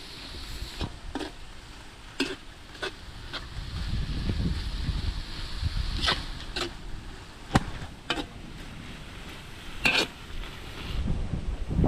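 Pork, eggplant and shrimp paste sauté in a pan, a steady sizzle with sharp scraping clicks from stirring at irregular intervals, close and fairly loud throughout with no talking.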